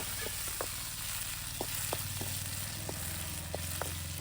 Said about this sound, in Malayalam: അണ്ടിപ്പരിപ്പും മുന്തിരി ഒന്ന് വറുത്തെടുക്കാം